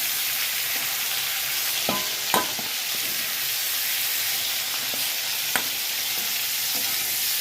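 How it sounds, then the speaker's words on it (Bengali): Prawns frying and being stirred in a pan, a steady close sizzle throughout with a few sharp scraping clicks of the spatula, no voices. "চিংড়ি মাছটা হয়ে গেছে ভাজা, এবার নামিয়ে নেবো।"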